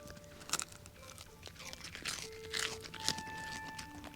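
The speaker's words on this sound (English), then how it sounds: "We agree that's got a good crunch to it." Crisp pastry crunches and crackles as someone bites and chews, making sharp, irregular snaps close up with quieter crinkling between them.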